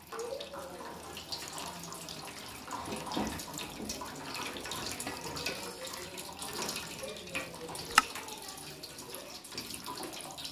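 Water streams from holes punched in a plastic bottle, splashing down in a continuous running patter for about ten seconds with one brief sharper splash.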